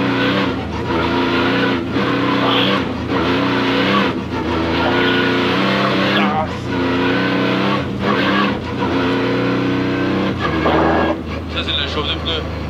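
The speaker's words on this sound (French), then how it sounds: "Ça, c'est de la chauffe de pneus." A rally car at a 2024 rally event warms its tyres, its engine droning and revving steadily with brief tyre scrubs, while people talk over the noise nearby.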